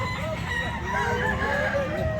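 A rooster crows nearby in a long, strained call over a busy outdoor background with other fowl.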